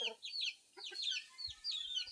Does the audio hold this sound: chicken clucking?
yes